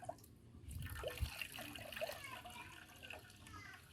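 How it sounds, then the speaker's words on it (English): Grated coconut is squeezed with a little water to make coconut milk in a village kitchen, giving soft trickling and dripping liquid sounds, quiet and close, with a few small knocks. "add some little water and squeeze it for her to achieve coconut milk"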